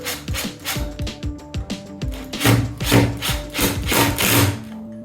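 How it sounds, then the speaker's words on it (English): A brass bracket is fastened into place with stainless steel screws while a Mira Select shower is being installed: close, repeated creaking and scraping twists come in short bursts, with no talking. "Screw the brass bracket into place using the supplied stainless steel screws."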